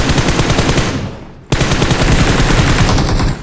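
Automatic gunfire in the BGMI mobile shooter game comes as dense, rapid bursts, loud and continuous, broken by one brief pause before the firing resumes and then cuts off.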